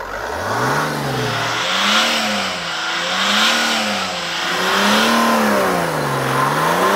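A Mercedes 3.2 litre straight-six diesel car engine revs repeatedly, pitch rising and falling in steady waves, loud and close with no talking.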